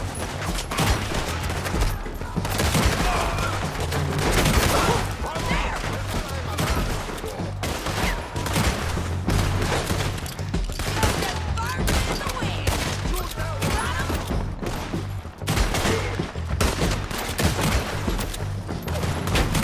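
Dense, continuous gunfire from a Red Dead Redemption 2 shootout, with rapid overlapping rifle and pistol shots that keep the whole stretch loud, while occasional shouted voices sit underneath.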